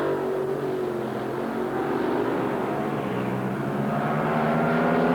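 AA nitro-burning dragsters race side by side down a quarter-mile drag strip at an Ohio event, a continuous loud, roaring engine blast heard from a distance with a tone that shifts as they run, no voices.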